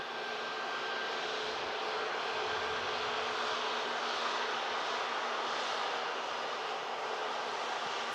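Aircraft at Manchester Airport, a steady distant engine roar with broadband rushing noise held throughout, no voices.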